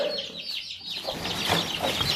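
Young chicks at a home in a village cluck and cheep in short, close calls that run through the moment, with a soft background hum.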